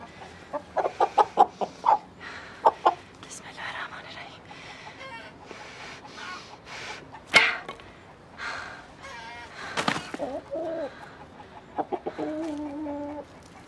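Chickens and a rooster clucking close by, a series of sharp rhythmic clucks and squawks with louder outbursts and pauses between them, mixed with people talking.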